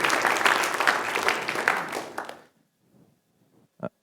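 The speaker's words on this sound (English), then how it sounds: "you can clap for them if you want" A room full of people claps and cheers for a couple called up in front of a church gathering, a dense burst of applause that stops abruptly, followed by near silence and one sharp tap.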